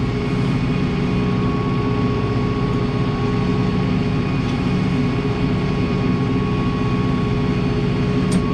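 A tractor engine held at steady revs for 540 PTO while running a hedgecutter, a constant loud droning hum with a fixed pitch and no pauses.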